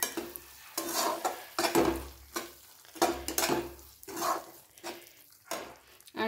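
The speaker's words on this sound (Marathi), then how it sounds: "ही मटकी मिक्स करून घ्यायची." Sprouted moth beans are stirred in a pan with a spoon, giving repeated scraping and clinking strokes with faint sizzling between them, close and fairly quiet, with no talking.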